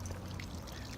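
Water pouring from two hoses into a filling pool, a steady, soft, continuous splashing rush with no voices.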